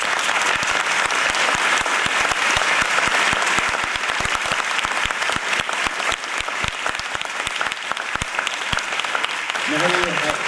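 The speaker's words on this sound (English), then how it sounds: "Please join me in giving these candidates a round of applause." Loud, sustained applause from the audience at a Smyrna mayoral debate in 2019, a thick continuous roar of clapping that runs throughout, with a brief voice rising near the end.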